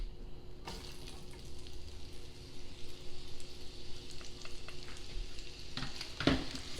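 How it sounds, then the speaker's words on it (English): Thinly sliced onions sautéing in a pan, a continuous close sizzle with soft stirring scrapes and a brief clatter near the end, no voices. "add our cup of sliced thinly sliced onions in our pan, and we're going to saute them for about 3 to 5 minutes"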